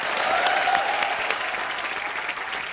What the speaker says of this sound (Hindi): रवीना जी के लिए एक बार जोरदार तालियां